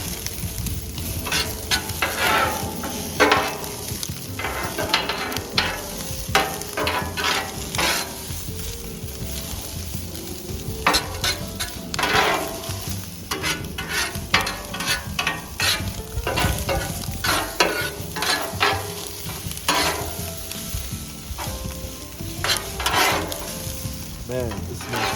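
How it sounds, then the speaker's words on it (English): Vegetables sizzle and fry in oil on a Blackstone griddle for Lebanese fajitas, with a steady hiss under repeated scraping and clacking from a spatula stirring them around. "I'm gonna go ahead and add a little bit of oil just so I can cook the veggies first."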